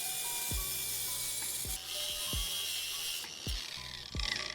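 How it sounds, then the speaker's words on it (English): A handsaw cutting a piece of wooden lath, with a run of short, sharp rasping strokes at an uneven rhythm, heard close and fairly quiet with a brighter hiss late in the cut. "Start by cutting off a piece of lath."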